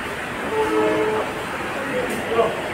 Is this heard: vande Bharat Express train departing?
yes